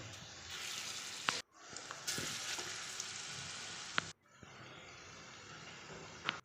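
Jackfruit kofta balls fry in oil in a wok with a steady, close sizzle that briefly drops out twice, with a few sharp clinks of stirring.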